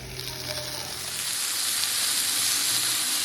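A loud, steady sizzle of okra frying in a hot pan, the hiss swelling and holding after chopped tomatoes are added, with no talking.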